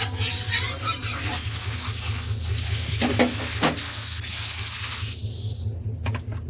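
Steady hiss of a little white oil heating in a wok, a soft continuous sizzle with a couple of brief clatters partway through.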